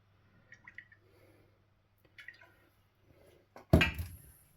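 Oil poured into small holes cut in a large piece of beef being prepared, heard as soft liquid trickles and drips near the end, with a couple of faint wet splashes earlier and quiet room background.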